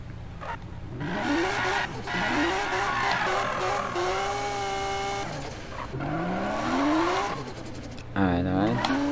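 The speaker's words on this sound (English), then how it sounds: "let me go ahead and real quick show you some burnouts over here" A car in the Need for Speed video game does burnouts, its engine revving hard over continuous tire squeal that rises and falls in pitch, loud and close, with a voice talking over it.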